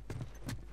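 Horse hooves clip-clop on the ground in The Last of Us video game, a few quick, close, distinct hoof strikes in a brief burst with no talking.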